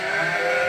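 A single sheep gives one short, loud, close bleat with a wavering nasal tone, alone and without any talk.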